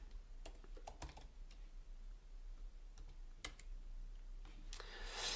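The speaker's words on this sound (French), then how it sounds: "Donc je tape ici mon mot de passe." Password being typed on a computer keyboard: scattered, irregular clicks of individual keypresses, near and fairly quiet over a low hum, with no talking.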